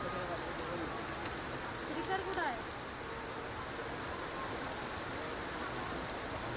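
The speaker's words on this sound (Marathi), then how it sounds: "मुसळधार पाऊस बरसतोय" Heavy monsoon rain pouring down as a dense, continuous hiss, heard faintly and evenly throughout with a brief soft disturbance partway through.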